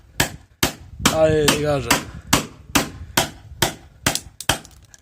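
A hammer taps a size 15 socket to free rusted bolts on a motorbike build, giving sharp metallic strikes at a steady, roughly half-second rhythm, with a brief spoken phrase partway through.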